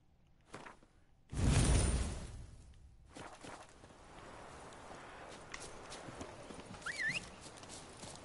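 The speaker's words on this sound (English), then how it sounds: "Teleporty horse." A horse in the video game Witcher 3 thunders past with a loud burst of hooves, then softer clip-clop steps and faint rustling follow, with no voices.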